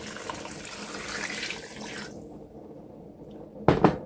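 Boiling water pours steadily into a pan of flour for gravy for about two seconds, then stops, followed by a brief clatter.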